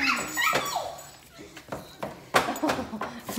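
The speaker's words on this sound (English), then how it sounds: "Sweetest dogs ever." Dogs whimper and yip in excited greeting, short bursts and soft whines close by, mixed with a person's affectionate talk.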